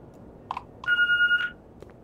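Electronic beep in The Walking Dead video game: a single steady tonal beep lasting about half a second, fairly clear over a quiet background with a few soft clicks around it.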